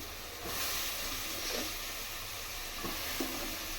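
Vegetables (carrot, beans, capsicum, brinjal and raw plantain) frying with masala in a pan give a steady, dense sizzle throughout, with a few faint scraping stirs, close and alone.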